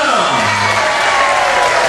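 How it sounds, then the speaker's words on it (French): Audience at a municipal election list presentation applauding and cheering loudly, a dense continuous roar of clapping mixed with shouts and whoops, close and sustained throughout. "Freddy, que nous applaudissons bien fort."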